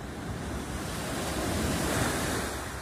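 Calm winter sea off a seafront promenade in Mersin, Turkey, with gentle waves washing steadily and softly in a continuous hiss, a light breeze brushing the microphone.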